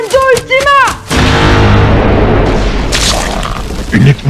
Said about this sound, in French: Une explosion quantique émergea des mains de Demetora